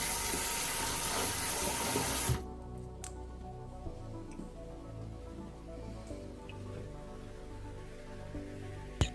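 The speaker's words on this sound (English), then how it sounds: "Then I'm going to rinse it properly." Soaked pecans are rinsed under a running kitchen tap, a loud steady gush of water at first that drops to a softer trickle and rinse with small clicks and a knock at the end.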